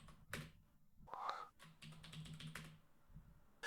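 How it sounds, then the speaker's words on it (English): Someone types a command on a computer keyboard to launch a local chatbot app, producing bursts of close, crisp keystrokes in an uneven rhythm through most of the short stretch. "And then I'm just going to type Streamlit run."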